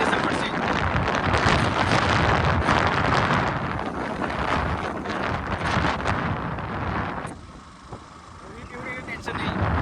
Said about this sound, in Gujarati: પવન એટલો બધો ભારે ફૂંકાય છે